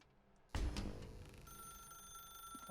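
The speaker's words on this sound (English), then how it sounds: "Now pick up the phone." A telephone rings in The Stanley Parable video game, a sudden bright ring that then continues as a steady electronic tone, with no voices.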